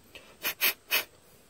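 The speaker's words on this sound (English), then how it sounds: "I'm just going to blow through it a little bit with some carb cleaner" Carb cleaner sprayed in three short, sharp hissing bursts through a small jet in a Snapper mower carburetor, close and alone.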